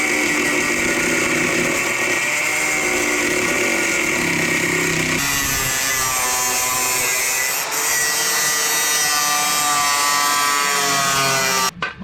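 A power saw grinds without a break through the sheet metal body panel of a Chevy square-body truck, loud and close, a harsh whining cut that changes pitch halfway and stops abruptly at the end.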